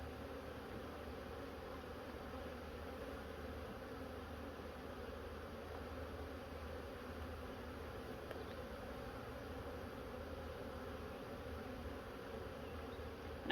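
Honeybees being moved from a nuc into a hive make a steady, low, continuous buzz that holds evenly throughout without a break.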